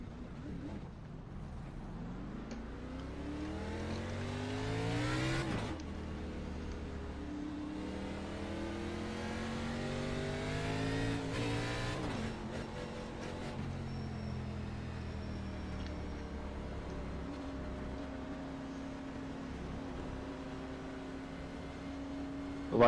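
Race cars on a track at a Chicagoland event, engines rising and falling through gear changes as they accelerate, loud and continuous, with a sharp shift around the middle and ongoing revving throughout.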